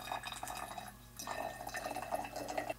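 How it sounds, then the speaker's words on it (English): White vinegar pouring into a small glass Tabasco bottle, a faint close-up gurgling trickle with a brief pause before the liquid runs on again. "First, you want to fill the Tabasco bottle up"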